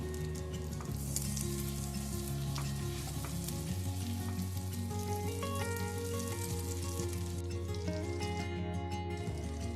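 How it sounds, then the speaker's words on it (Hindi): Butter and garlic sizzle and fry steadily in a pan over a medium flame, a continuous close crackle with faint stirring and no talk. "अब इसमें लहसुन डालेंगे और इसे सौते होने देंगे"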